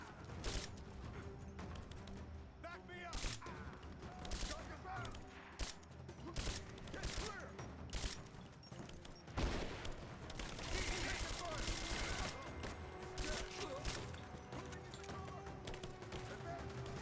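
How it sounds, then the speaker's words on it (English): Sustained bursts of gunfire in the video game Rise of the Tomb Raider crackle throughout, some shots close and sharp, others farther off, with a voice speaking at times under the shooting. "I hear someone else shooting"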